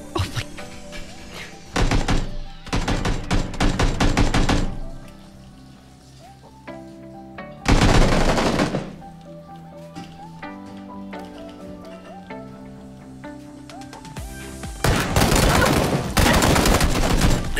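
Bursts of rapid gunfire in a first-person shooter video game, loud and dense in several clusters separated by quieter stretches of game music and sound, with no talk.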